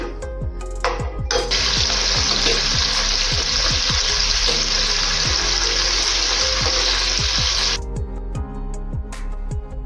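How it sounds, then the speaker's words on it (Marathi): Milk-based paste sautéing in a kadhai already used for frying paneer, made for matar paneer: a loud, steady sizzle that fills most of the span, with repeated stirring scrapes and clinks underneath and a quieter sizzle before and after. "ज्या कढईत आपण पनीर तळून घेतलं होतं, त्याच कढईत आपण ही पेस्ट परतून घेणार आहोत।"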